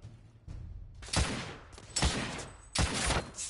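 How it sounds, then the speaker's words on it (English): Three heavy, booming shotgun blasts fire in The Order: 1886 video game, spaced roughly a second apart, each one loud and close with a short rumbling tail. "Shotgun to the face hurts, no doubt, man."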